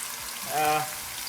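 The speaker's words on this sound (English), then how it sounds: "Let it fry a little bit." Beans and rice, October beans, frying in a pan with a gentle, brief sizzle that swells and fades over about a second, fairly close and steady with no talking.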